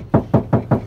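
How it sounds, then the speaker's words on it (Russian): Four evenly spaced knocks on a bare metal door panel of a Ravon R2 with no sound deadening inside, each a hollow, drum-like thud, close and fairly loud. "Металл звучит как барабан."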